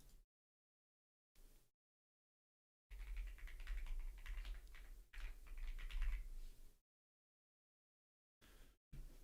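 Rapid clicking on a computer keyboard, a dense run of keystrokes lasting a few seconds, with brief separate bursts of typing before and after, close and fairly quiet.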